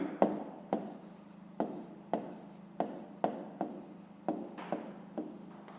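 A pen writes an answer to a fifth-grade maths exercise, with about a dozen sharp scratchy strokes and taps in an uneven rhythm, close and clear, without talk.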